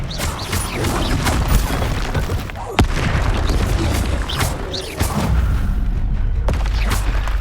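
A Confringo blasting spell explodes in the video game Hogwarts Legacy: two sharp booms stand out against a loud, dense wash of ongoing combat noise and crackling debris.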